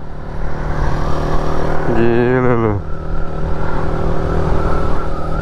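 Kawasaki Z125 motorcycle engine idles close by, then rises in a brief rev burst before settling back to a steady idle, with people talking over it.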